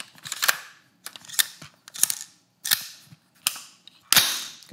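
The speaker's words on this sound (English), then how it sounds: "Gotta ride that charging handle." A Radian Raptor charging handle racked back and forth on a rifle, about six sharp metallic clacks spaced roughly evenly over several seconds, close and crisp with no voices.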